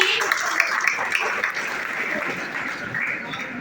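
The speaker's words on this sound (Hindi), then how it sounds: "एक बार जोरदार तालियां हमारे दीपक सर के लिए।" An audience at a B.Ed college in Patna bursts into loud, dense applause for a teacher, a continuous roar of clapping that holds steady with a few voices mixed in.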